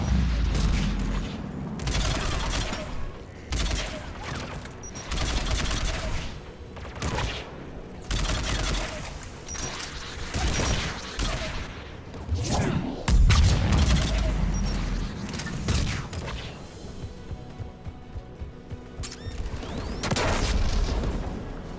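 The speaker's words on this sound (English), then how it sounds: "The Geth anti-aircraft guns are up ahead." Geth anti-aircraft guns fire in the video game Mass Effect 3 with repeated heavy booming bursts, loud and rhythmic, over continuous battle rumble for about twenty seconds.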